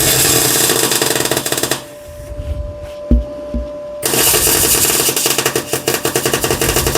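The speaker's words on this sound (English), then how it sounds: "and then I'll go and seam weld the whole lot round" A welder seam welds a steering column bracket on a classic Mini, a loud, close crackling buzz that stops for about two seconds with a few clunks and then resumes steadily.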